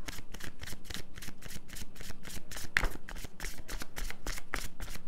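Tarot cards are shuffled near at hand, a dense, steady stream of quick papery riffles and flicks continuing throughout without speech.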